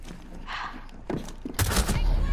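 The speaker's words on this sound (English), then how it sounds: "She saw me and she shot." Gunfire in Rainbow Six Siege during a close-quarters round: a sharp burst of loud shots lands near the end, preceded by softer thuds and game noise, with no voices over it.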